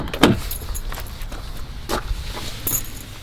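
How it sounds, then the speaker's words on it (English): A car locks with a short chirp or click near the start, then some faint clunks and rustles close by, with no talking. "Car's locked."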